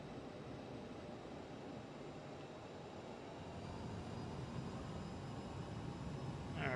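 Airliner jet engines in a flight simulator spool up for a rolling takeoff as a steady broadband roar that grows louder over the last few seconds, with no talk.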